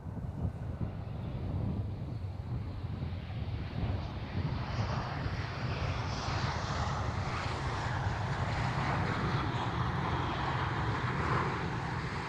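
An EasyJet airliner at Amsterdam Schiphol Airport rumbles past, a broad, continuous jet roar that swells steadily and stays loud throughout, with wind buffeting the microphone.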